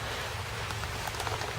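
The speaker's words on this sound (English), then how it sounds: "Now it's starting to really rain." Rain begins falling outdoors during a bird dog's training session, a brief, even hiss of drops pattering steadily with no voices.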